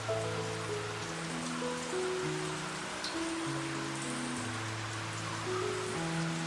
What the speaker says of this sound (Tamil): மழை நிறைய அதிகமாக ஆகிட்டே இருக்குது